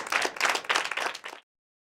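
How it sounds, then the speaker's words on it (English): Audience applause after a comedy magic trick, a burst of dense clapping lasting about a second and a half before stopping abruptly. "you take your well-deserved applause"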